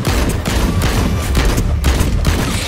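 Rapid gunfire in The Cycle, loud and close, firing in quick repeated bursts across the whole moment with no talking.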